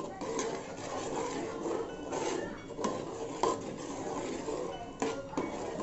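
A mixture of mutton khichda is stirred in a cooking pot, giving soft scraping and rubbing with sharp intermittent clinks of a spoon against the pot, fairly quiet and close, with no talking.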